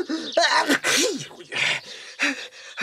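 A child in a Swedish drama sneezes repeatedly after inhaling sneezing powder, giving a series of loud, gasping sneezes and wheezy breaths in quick, uneven succession at close range.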